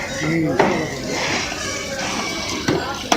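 Metal utensils and pots clatter and clink as rushing floodwater sweeps them away after heavy rain from Cyclone Yaas in Bihar, with sharp knocks over a steady roar of water and voices talking.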